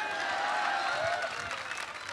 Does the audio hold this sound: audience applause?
yes